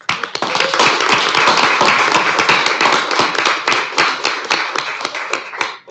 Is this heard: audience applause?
yes